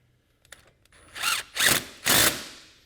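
A power tool tightens mud flap hardware on a Polaris RZR XP 1000 Turbo, three short loud whirring bursts in quick succession after a few quiet clicks of handling.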